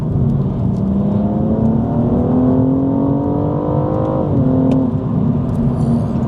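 A BMW M235i with a turbocharged engine accelerating in third gear, heard from inside the cabin as a steady rising drone that climbs in pitch, briefly drops at a shift, then pulls on.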